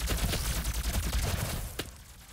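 Rapid bursts of gunfire from the video game DOOM, played loud and dense through most of the stretch before tapering off into quieter game sound.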